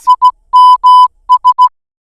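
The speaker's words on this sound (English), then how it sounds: "and SMS sounds like this." Crisp Morse code beeps for SMS: three quick dots, two long dashes, three quick dots, a steady pure tone standing alone.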